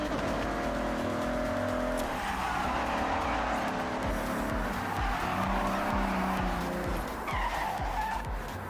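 Porsche 968 in Forza Horizon 6, engine droning steadily with repeated tire skids and squeals throughout, loud and continuous with brief shifts in pitch.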